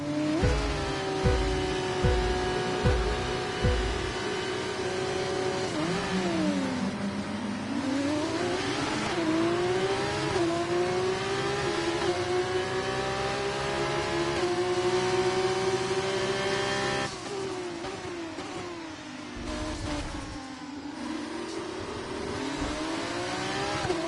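Formula 1 car engine in the F1 24 racing game, a continuous high-pitched whine that climbs and drops through gear shifts and corners, loud and steady for the whole stretch, with no talking.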